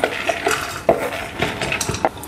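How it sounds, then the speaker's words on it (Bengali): Washed, drained split peas (matar dal) being tipped into a pressure cooker, a quick series of clinks and scrapes of a metal utensil against the pot, close and fairly loud, with no talking. "এখন আমি কুকারের মধ্যে ডালটা দিয়ে দেবো।"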